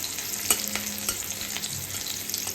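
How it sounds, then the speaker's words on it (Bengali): Garlic and green chilli fry in hot oil for greens, a close continuous sizzle broken by a few sharp stirring clicks and scrapes. "এখানে এই শাকের জন্য রসুন আর লঙ্কাটা ভেজে নিচ্ছি"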